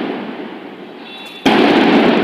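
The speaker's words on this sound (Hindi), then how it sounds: "अगर आपको कोई पटाखे की आवाज़ आ रही होगी तो माफ़ करना, मगर क्या करें अभी आज दिवाली के दिन" Firecrackers go off outdoors during Diwali, a steady crackling hiss suddenly giving way to a loud, dense burst of popping and crackling bangs close by.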